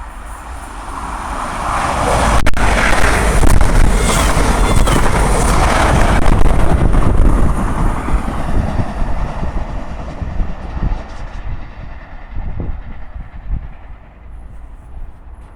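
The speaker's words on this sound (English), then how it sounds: "Apparently this class is officially the fastest diesel locomotive in the world" A British Rail diesel-electric high-speed train, built 1975–1982 and running up to 125 mph in service, roars past close by at Starcross in Devon, a loud rushing passage that slowly fades as it recedes.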